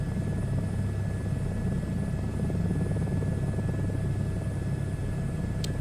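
An H-125 helicopter in a flight simulator game gives off a steady, loud rotor and engine drone, a continuous even rumble with a faint high whine running through it and no talk.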